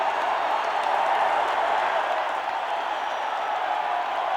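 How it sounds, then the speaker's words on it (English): Arena crowd in Minneapolis applauding and cheering a returning wrestler, a continuous wash of clapping and crowd noise, fairly loud and even throughout. "look at these fans stand and applaud the Mad Dog"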